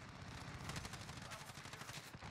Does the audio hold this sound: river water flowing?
no